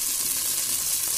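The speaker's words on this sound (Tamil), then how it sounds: "நல்லா பொரியுது." Garlic with cinnamon, cloves and cardamom fries in hot oil for biryani, a dense continuous sizzle that is close and steady, with no voices.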